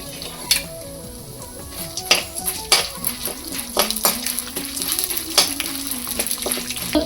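Chana dal roasting with asafoetida in a pan, a steady sizzle with frequent sharp clanks and scrapes of a spoon against the metal pan, close and fairly loud, with no voices.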